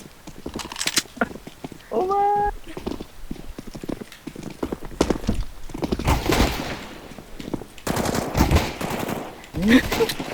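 Gunfire in Counter-Strike: Global Offensive punches through a wall in scattered sharp bursts and single cracks, with background voices talking over the fighting.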